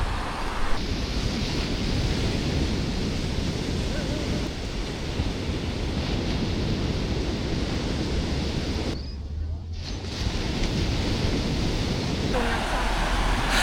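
Ocean water at Coogee beach in Sydney on a calm, cloudy day: a continuous broadband wash of surf heavily mixed with wind buffeting the microphone, with a brief dip partway through.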